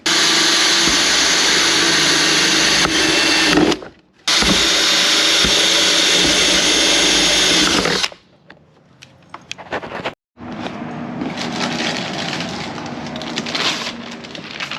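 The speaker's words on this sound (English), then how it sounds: "drill a hole right here" A loud, steady motor whine of a power drill running in long bursts, stopping briefly, then a rougher grinding stretch as it bites through material, drilling a hole for wires on a 12V solar power bank.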